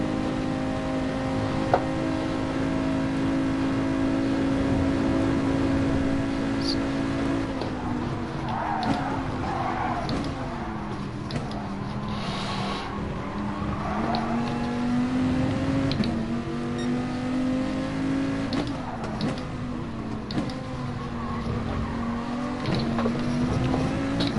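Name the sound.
Nissan race car turbo engine accelerating in video game GT Sport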